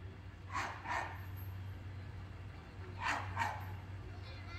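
A security dog barks twice in quick pairs, moderately close, against a low steady hum, with a short pause between the two bursts.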